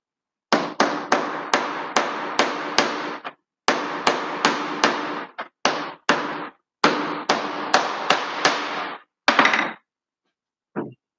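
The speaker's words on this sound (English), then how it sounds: "Take your hammer." Repeated sharp hammer taps on a bench, seating a hydraulic piston seal from a 1985 Bolens Iseki, in quick even bursts: a steady metallic-wood knocking in several groups separated by short pauses, close and loud.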